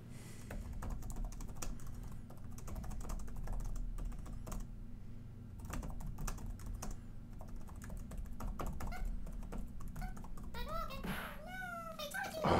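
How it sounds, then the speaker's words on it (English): Rapid clatter of fingers typing on a computer keyboard, close and steady throughout, with a cat meowing a few times near the end. "God, I'm bad at typing."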